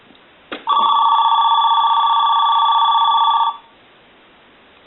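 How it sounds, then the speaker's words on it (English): A repaired Mickey Mouse 210 Trim Line telephone rings with a loud, steady electronic warble lasting about three seconds, preceded by a short click and ending abruptly into quiet. "We also want to ring this telephone"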